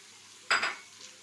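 Coriander drops into hot garlic frying in oil for a taro dish, giving one sudden sizzling hiss close up that fades quickly back to a quiet background.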